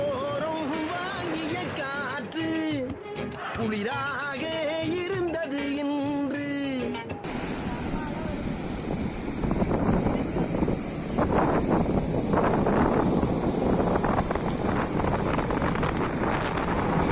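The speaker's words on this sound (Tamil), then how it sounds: "இப்போ இந்த பீச்சில் காற்று ரொம்ப பயங்கரமாக அடிச்சிட்ருக்கு." Strong wind gusts buffeting the microphone on a black-sand beach, a steady loud roar filling the second half after a short stretch of other sound at the start.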